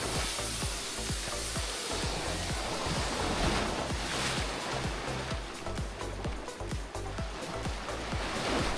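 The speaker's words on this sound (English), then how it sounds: "Got like the recoil of the water off the wall right in my ear." Sea waves at Playacar beach in Playa del Carmen, Mexico, splash and wash against a wall up close, giving a continuous loud rushing surge with no talk.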